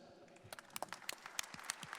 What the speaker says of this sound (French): Je vous demande d'applaudir Monsieur Michalak.